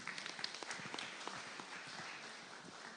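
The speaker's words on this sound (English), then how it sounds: "give Vicky another loud applause" An audience at a domestic violence awareness conference applauds for Vicky. The clapping is faint and distant, with a dense, even patter and a few sharper claps near the start.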